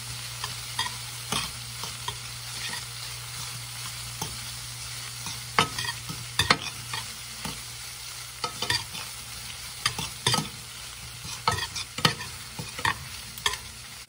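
Chicken seasoned with salt and pepper cooks in a pan with a low steady sizzle, broken by repeated scraping and clattering of a utensil stirring it, close by with no talk.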